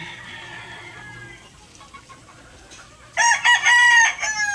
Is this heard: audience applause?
no